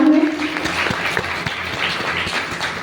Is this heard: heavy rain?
no